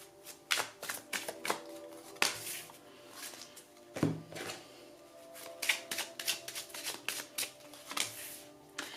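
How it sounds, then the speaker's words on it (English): Oracle cards being shuffled by hand, a quick irregular run of close, crisp riffling taps and slaps that continues throughout with no talk. "We're going to start here with your oracle cards."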